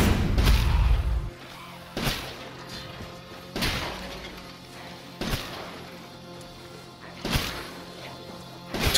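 A fully upgraded SIG-12 shotgun in Resident Evil Village's Mercenaries mode fires a rapid series of loud, booming blasts, about five evenly spaced shots roughly a second and a half apart, each with a sharp crack and short decaying tail.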